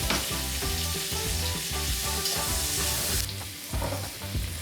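Chopped onions frying in bacon-flavoured oil in a wok, a loud dense sizzle that continues throughout, with occasional stirring knocks underneath and a brief dip in intensity near the end, no voices.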